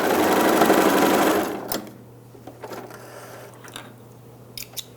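A sewing machine backstitches across a jeans hem in a brief, fast, whirring burst of about a second and a half, then stops, followed by faint handling noises.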